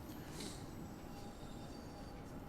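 A passing train in the video game Train Sim World 2 gives a steady rolling roar with a brief high squeal near the start, continuous and fairly faint throughout.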